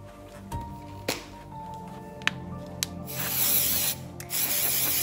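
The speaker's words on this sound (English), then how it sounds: "I just spray it with this release spray that I got off of Amazon" Mould release spray hissing onto a resin mould in a short, close burst, then a second brief spray after a pause, following a few faint clicks and taps of handling.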